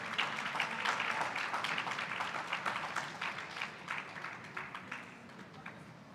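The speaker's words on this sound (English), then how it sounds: "Put your hands together for them as they come." An audience at a service excellence conference applauds panelists as they come on stage, with dense, sustained clapping from a sizable crowd that gradually thins and fades toward the end.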